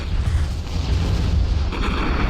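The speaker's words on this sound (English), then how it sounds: "Whoa! Nice explosion." A deep rumbling explosion from the Star Trek Online video game, a heavy sustained boom that stays loud throughout.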